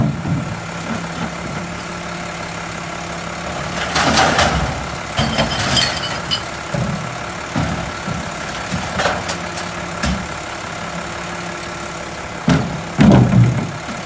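A Mack LEU recycling truck idles with a steady engine drone, repeated reversing beeps, and occasional air-brake hisses and clanks, loud and close.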